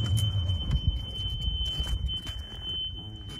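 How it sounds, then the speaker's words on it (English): A Western Elegante "The Lincoln" two-tone golf cart sounds its reverse backup buzzer, a steady high electronic tone holding throughout over low rumbling, with no talk. "You'll hear the backup buzzer."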